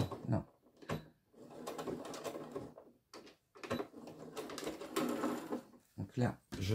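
A domestic sewing machine stitches a thick fabric bookmark in short bursts of rapid mechanical whirring separated by pauses. Someone speaks French intermittently between and over the runs.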